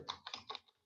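A computer keyboard is typed on in a quick, faint burst of three or four close keystrokes, alone with no voices.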